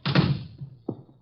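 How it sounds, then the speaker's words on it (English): A door is pushed shut in an old radio drama, a dull thunk followed by a second softer knock of the latch, close by with no voices. "Shut the door."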